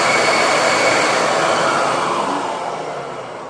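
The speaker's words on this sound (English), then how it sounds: "Turn the vacuum on without the bin on and see if anything shoots out of it." A Hoover vacuum cleaner runs with its bin removed, a loud continuous whooshing roar close by that fades slightly toward the end.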